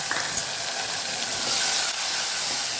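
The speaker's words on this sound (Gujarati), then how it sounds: "એક ટમેટું આપણે સુધારી લીધું છે, એને સાતળી લઈશું।" A chopped tomato sautés in hot oil with asafoetida in a pan, giving a steady close sizzling hiss throughout.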